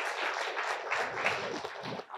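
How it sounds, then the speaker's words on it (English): An audience at a reparations panel claps in a brief, dense burst that fades toward the end. "Can we give him a round of applause?"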